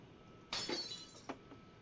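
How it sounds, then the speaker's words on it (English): Glass shattering in a visual novel scene: a sudden loud crash at the start, then a bright scatter of tinkling shards with one more sharp fragment hit after it. No one speaks over it. "The sound of glass shattering rents through the air as soon as her hold on it loosens."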